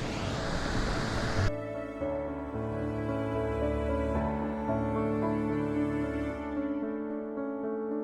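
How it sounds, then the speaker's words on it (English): Water pours steadily over a lock wall in a low rushing roar, with a brief burst of noise at the start, then a constant churning flow. "They're running quite a bit of water over the side."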